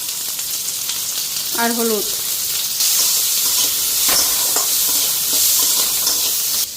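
Eggplant frying in fish oil in a pan gives a steady, bright sizzle and hiss throughout. Occasional stirring clatters are heard, and someone speaks briefly.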